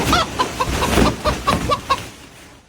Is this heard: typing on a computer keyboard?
no